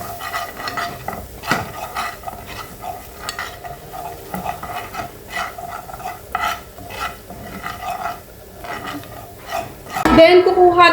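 Egyptian food sizzles in a pan while a utensil stirs it, and repeated scraping clatters against the metal over a frying hiss. A louder clatter comes near the end.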